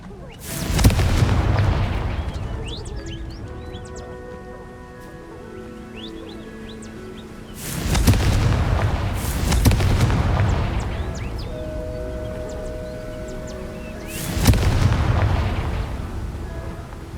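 Confringo explosive spell cast in the video game Hogwarts Legacy: three heavy booming blasts, evenly spaced several seconds apart, each swelling and fading over a soft ambient music bed.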